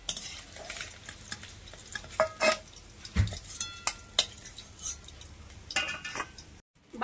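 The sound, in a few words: frying mourola fish in oil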